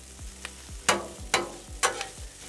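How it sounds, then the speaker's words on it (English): Chopped vegetables and rice frying on a flat-top Blackstone griddle, with a steady low sizzle broken by three sharp scraping or stirring bursts from a spatula, close and moderately loud. "That's frying up nice."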